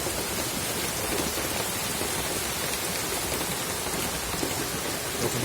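Very heavy rainfall over a Kolkata street hisses in a dense, unbroken roar, loud and even, with a faint low rumble beneath and no one speaking.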